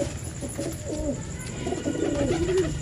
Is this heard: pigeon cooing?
yes